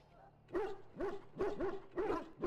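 Dogs in the Dragon Age video game bark in a quick series of five or six gruff, moderately close barks, following a faint whimper at the start.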